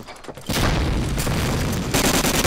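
A thrown grenade detonates in a multiplayer shooter, opening with a sudden heavy boom that rolls into a long, dense roar of debris and rumble, loud and close, swelling again near the end with no talk over it.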